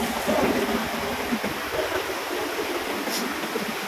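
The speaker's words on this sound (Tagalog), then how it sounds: "At ito na po yung ilog." A river flowing near a bridge, a steady broad rushing of water that holds at an even level throughout, close by and with no talking.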